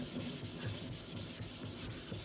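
Straight razor blade being honed on an old 8K Norton whetstone, soft, quiet rhythmic rubbing strokes repeating evenly across the stone, close and without voices.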